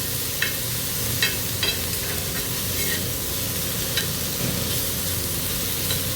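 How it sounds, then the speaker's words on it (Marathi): Leafy vegetables with garlic and salt stir-fry in oil on a flat iron tawa, giving a continuous moderate sizzle and hiss punctuated by light clicks of a spatula turning them. "भाजी तेलावर परतत असताना ती जितकी सुटसुटीत होईल त्याप्रमाणे परतून घ्यावी"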